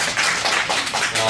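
A church audience gives a brief round of clapping during a Sunday sermon, a short loud burst of claps with voices mixed in.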